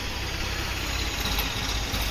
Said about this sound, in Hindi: ये देखो ट्रैक्टर आ चुका है बच्चा पार्टी के साथ।